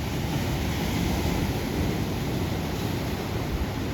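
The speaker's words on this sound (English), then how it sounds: "Gets beaten on by the waves all day and all night." Ocean surf beats against a rock standing offshore in a national park near Kenting, a constant loud rushing wash of water and wind with no breaks or voices.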